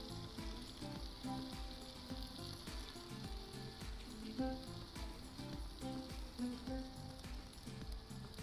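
Paneer tikka pieces fry in a pan with a steady, close sizzle and crackle, brief clinks and stirring sounds scattered throughout, with no talking.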